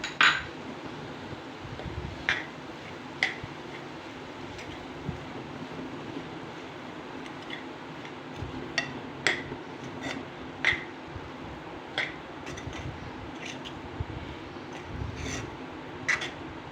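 A spoon stirs soaked sago into a simmering bottle gourd milk kheer in a pot, giving scattered soft clinks and scrapes against the metal over a low, steady background.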